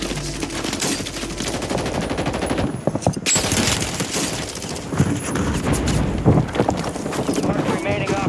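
Rapid automatic gunfire from an HRM-9 submachine gun in Warzone 3 rattles in dense, continuous bursts alongside game sounds, with voices talking over the action.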